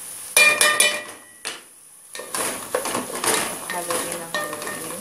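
Spoon clattering and scraping against a pot while mixed ingredients for tuna with red rice are stirred, loud uneven bursts with a short pause, then steady close scraping and clinking.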